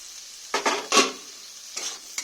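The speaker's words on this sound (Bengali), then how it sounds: "দিয়ে আমি ভালো করে একটু নেড়ে দেবো" Vegetables and tomato frying in a pan are stirred, giving a few scraping, sizzling strokes in quick bursts over a soft background hiss, close and alone.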